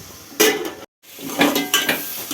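Metal clatter of a lid and cookware on a cooking pot of brinjal and tomato, close and fairly loud, in a few clinks and knocks around a brief silence.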